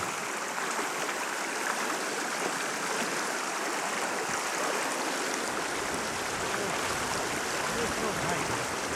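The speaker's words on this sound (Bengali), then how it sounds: "তাও ভালোই স্রোত" Stream water rushing with a strong current, a steady broadband hiss and gurgle that stays constant and fairly close throughout.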